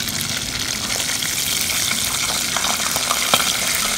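Pancit noodles sizzle and crackle steadily in a hot pan, a dense frying hiss with small pops throughout.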